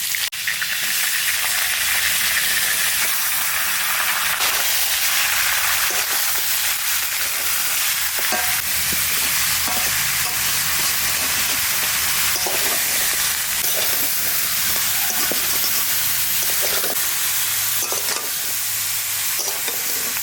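Mutton sizzles loudly in hot ghee with a bay leaf and whole garam masala, a dense, continuous frying hiss close up, broken by repeated scraping stirs of a spoon against the pan.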